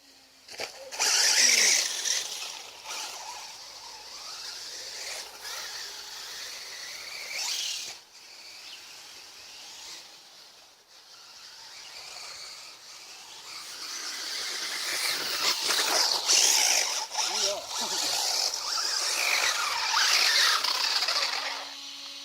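Small RC car with cardan shaft transmission whines and squeals as its rear wheels spin and lose grip, the buzzing motor noise swelling and fading in bursts over about twenty seconds, no talking.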